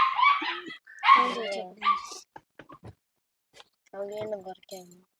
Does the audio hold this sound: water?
no